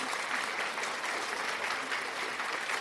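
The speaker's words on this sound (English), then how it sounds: "We gotta give you a round of applause coming on," A round of applause from an audience, a continuous, even patter of many hands clapping at moderate level with no pauses across the short stretch.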